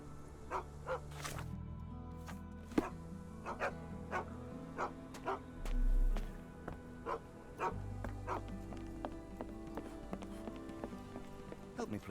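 Two dogs barking in the video game Sherlock Holmes The Awakened, repeated sharp barks scattered through the stretch over a soft rain-like patter and a low droning background.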